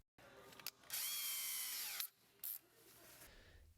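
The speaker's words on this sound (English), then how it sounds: "For your starter wire, twist together the blue and the blue with yellow striped wires using a drill." Power drill spinning to twist blue and blue-with-yellow-striped wires together, a loud whine lasting about a second that winds down, then a short second burst, close up with clicks in between.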